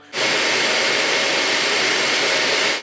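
A Deerma T50W cordless stick vacuum switches on and runs at maximum power with a loud, steady high whine and airy rush, then begins to cut off.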